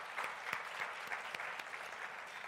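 Audience applause at a panel discussion summit, a steady patter of many hands clapping with a few sharper claps, distant and fairly faint.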